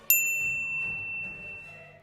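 A single bright notification bell dings once, close and clear, then rings out in a long, shimmering decay that fades away over about two seconds.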